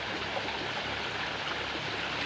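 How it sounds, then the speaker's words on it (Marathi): Steady rushing of a spring-fed stream in the Konkan on a sunny day, continuous and fairly close, with no voices. "वाहतं पाणी हे सर्व झऱ्याचं पाणी आहे"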